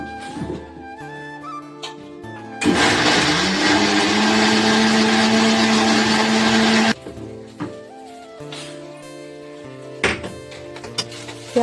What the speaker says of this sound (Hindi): प्याज हमारी कट चुकी है और मैं यहाँ पे इसे ग्राइंड कर रही हूँ।